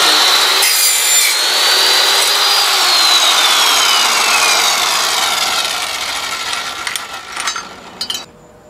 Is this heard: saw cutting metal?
yes